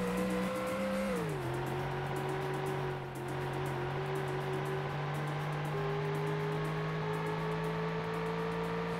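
A Ford Mustang muscle car engine drones steadily in the Ford Racing video game, its pitch dropping after a gear change and then climbing slowly again, loud and close with faint tire noise.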